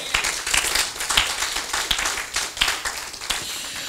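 A church congregation clapping hands together during a sermon, fast continuous applause with a few sharper accents standing out, fairly faint and with no talking over it.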